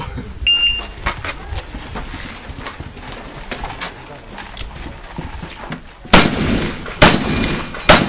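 Several sharp gunshots crack out near the end, loud and close, after a stretch of busy outdoor background noise.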